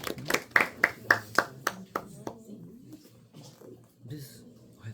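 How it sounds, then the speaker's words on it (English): A small class of students claps for a classmate during a calculus lesson, several sharp distinct claps in a quick burst that fade out, followed by quieter room noise and a few voices murmuring. "Shall we give Adeline a round of applause?"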